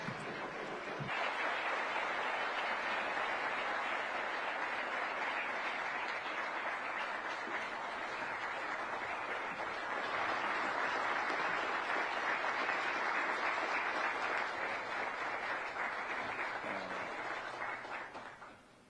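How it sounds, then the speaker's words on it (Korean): A large audience claps continuously for a long stretch, welcoming South Korea's president to the podium for a speech at the Center for Strategic and International Studies, a dense, even wash of applause that fades out at the very end. "또 대통령님을 큰 박수로 연단으로 모시도록 하겠습니다"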